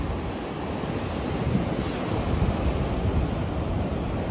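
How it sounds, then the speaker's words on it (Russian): Loud, continuous roar of ocean surf breaking nearby at Bahamar, Tenerife, a dense rushing wash of water with some wind buffeting the microphone, no voices. "Там волны лупят дальше."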